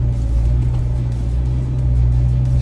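A Ford Ranger Wildtrak Super Cab drives through thick, soft beach sand. Its engine gives a loud, steady low rumble that stays close and constant throughout, with no voices.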